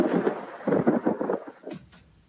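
Rumbling thunderstorm effect in a radio advert for storm-resistant garages, a short burst of deep rolling thunder with crackling rain that fades out within a couple of seconds.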